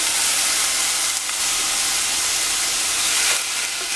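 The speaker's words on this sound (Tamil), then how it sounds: "அடுத்து கேப்சிகம் சேர்க்க போகிறோம். லேசாக வதங்கினா போதும்." Capsicum sautés with onions in a pan on a stove at medium flame. A steady, close, dense sizzling hiss runs unbroken throughout, with no voices.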